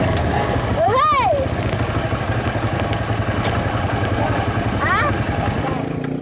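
A motorcycle being ridden, its engine a steady low putter close by throughout, with people talking and calling out over it.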